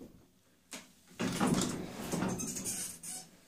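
A cheap cross trainer in use creaks and squeaks with a rough, repeated scraping and rubbing texture, close and fairly quiet, surging as the machine moves.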